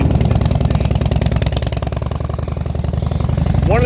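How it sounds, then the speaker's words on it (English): A Boss Hoss motorcycle's American V8 engine, up to 502 cubic inches, rumbles loudly and steadily at idle, its deep pulsing exhaust filling the foreground with little variation. "The Boss Haas V8 cycles are legendary in that it's got a V8 American V8 engine in it"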